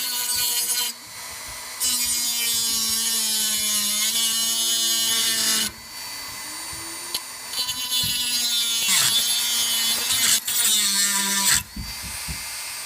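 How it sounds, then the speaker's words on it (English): A Dremel rotary tool with a cutoff wheel slices through a metal spoon, giving a steady high whine with brief dips where the wheel eases off, loud and close throughout. "I've just got a Dremel with a cutoff tool in it, and we're just going to go ahead and make those 2 cuts"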